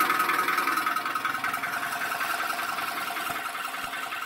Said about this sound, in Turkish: İş makinesi bu.